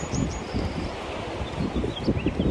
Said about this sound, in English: And it's a little windy today.